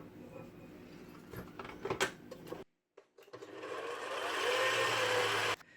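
Electric mixer kneading dough of flour, sugar, salt, baker's yeast and oil for spinach turnovers, first rattling and knocking, a brief pause, then a steady loud whirring motor run that holds before stopping.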